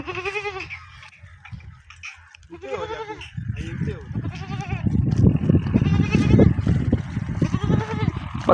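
Goats bleat a few times near a village tree-cutting spot, the calls fairly close while people talk throughout and rustling and handling noise rise in the background.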